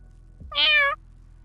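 A cat gives a single short, clear meow close by, rising and falling in a little under half a second against a quiet indoor background.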